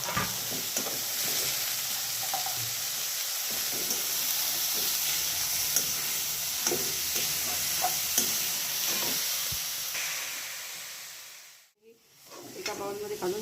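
Finely chopped beetroot leaves sautéing in a pan, a steady soft sizzle with repeated scrapes and taps of a spoon, broken by a brief quiet gap near the end before the stirring resumes. Faint talk drifts in underneath.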